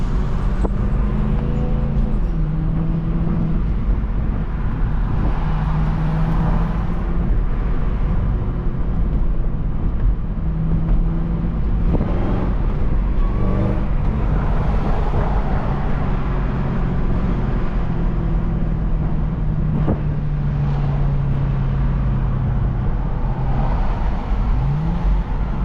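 Supercharged Cadillac CTS-V on a midday drive, a steady engine drone with a rising and falling whine weaving through it as the car pulls, loud and close from inside the cabin with road noise underneath.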